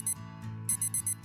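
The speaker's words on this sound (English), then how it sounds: "And that's my alarm." Video game alarm clock rings in short, bright electronic bursts, four quick beeps after a pause, loud and close over a soft steady musical background.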